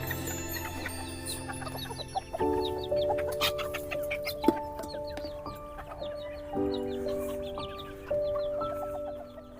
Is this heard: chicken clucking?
yes